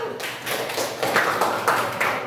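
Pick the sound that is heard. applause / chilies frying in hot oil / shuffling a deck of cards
applause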